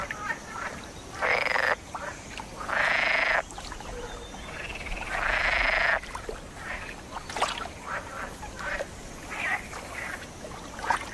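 Green frogs croaking, males calling for partners, several loud sustained chorus bursts a second or two long, close by, then shorter scattered croaks and calls, over a steady outdoor background.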